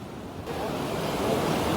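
A steady roar of Arabian Sea surf at Ganpatipule swells and builds, a broad rushing wash of waves with some wind buffeting, no voices.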